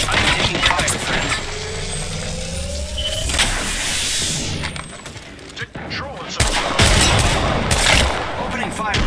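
Apex Legends match with gunfire breaking out, loud bursts and rapid shots mixed with game effects and a rising whoosh, while a voice talks over part of it.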